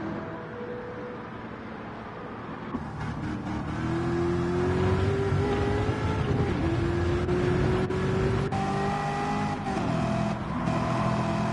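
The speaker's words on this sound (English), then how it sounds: "I can hear the engine noises again." NASCAR video game race car engines at Watkins Glen drone and rev steadily, tonal engine whine rising and shifting through gear changes, sustained and moderately loud without talk.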